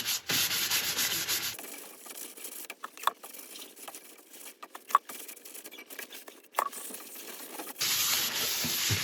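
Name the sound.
rubbing wood with isopropyl alcohol to clean pores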